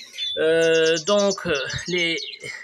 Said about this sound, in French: j'ai une perruche qui est en pleine liberté là